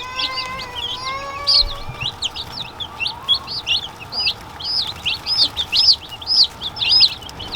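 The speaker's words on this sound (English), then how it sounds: "that's the baby chickens" Baby chicks on a homestead chirp steadily in a dense run of short, high peeps, a few clearer drawn-out calls near the start, heard close with no talking.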